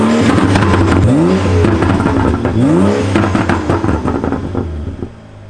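A 500 hp BMW engine starts and revs hard in repeated rising and falling sweeps, loud and close, before settling toward idle at the end.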